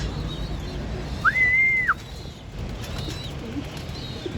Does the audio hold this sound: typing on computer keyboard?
no